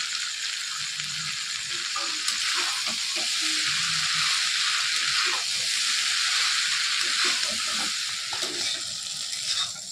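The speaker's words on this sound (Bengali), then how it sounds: "এবারে সেদ্ধ করে রাখা পাস্তাটা দিয়ে দেবো।" Boiled pasta and two pre-fried eggs go into a hot pan for a Bengali-style pasta, giving a steady, close sizzle and hiss with soft stirring scrapes throughout.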